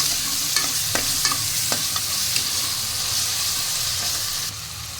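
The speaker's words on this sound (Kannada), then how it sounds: "ಚೆನ್ನಾಗಿ ಫ್ರೈ ಆದಮೇಲೆ ಟೊಮೊಟೊ ಹಾಕಿ ಚೆನ್ನಾಗಿ ಫ್ರೈ ಮಾಡಿ" Onions and tomato fry in a pan with a loud, continuous sizzle, while a spoon scrapes and taps against the metal at irregular moments, close up with no talking.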